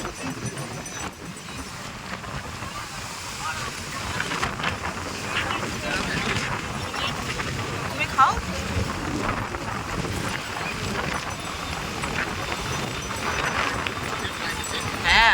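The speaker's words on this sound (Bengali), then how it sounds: "এত ঝড় আর সেই লেভেলের ঢেউ আসছে" Stormy sea at Puri beach, with heavy surf and strong wind buffeting the microphone in a steady roar that swells now and then; faint voices surface within the din.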